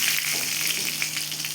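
Cloves, cardamom and cinnamon temper in hot oil for vegetarian biryani, producing a loud, close, continuous crackling sizzle over a brief moment with no voices.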